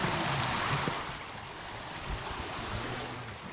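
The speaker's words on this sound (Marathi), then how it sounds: "आवाज छान वाटतो ना, खलखलाट पाण्याचा." A clear stream flows beneath a footbridge, its faint, steady murmur of running water continuing softly throughout with a light broadband wash.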